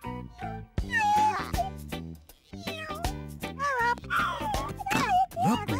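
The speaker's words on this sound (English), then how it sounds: "Hello, little black cat." A cartoon black cat meows several times in quick succession, bright and close, mixed with a child-like voice and gentle cartoon sounds in a playful animated scene.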